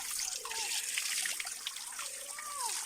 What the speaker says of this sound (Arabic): وهنايا تبارك الله حداهم هاد العين هذه، عرفتوا الماء ديالها تبارك الله حلو.